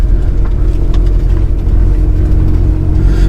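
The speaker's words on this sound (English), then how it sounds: "Lovely growl from that exhaust, and it is cammed as well, so it's got a nice lumpy idle." A cammed Mitsubishi Evo 5 with a 518bhp engine rumbles at a lumpy idle, its exhaust growling steadily and loudly up close with no one talking.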